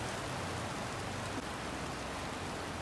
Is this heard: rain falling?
yes